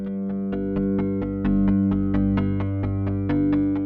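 Repeating plucked modular synthesizer notes in a steady pulse, overlapping tones ringing and sustaining over a low drone, no voices.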